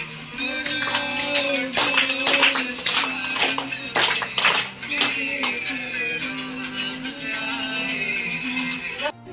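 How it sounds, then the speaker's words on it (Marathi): Scattered hand claps and taps at a women's haldi-kunku gathering in a residential colony ring out over a sustained tonal background, irregular and fairly close, with sparse bursts rather than a steady round of applause. "टाळ्या वगैरे वाजवून"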